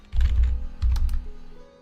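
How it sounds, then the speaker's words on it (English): Fast typing on a computer keyboard while entering a command in a bash terminal, two dense bursts of close, clattering keystrokes separated by a short pause, with no talk. "So when I'm typing a command, any command"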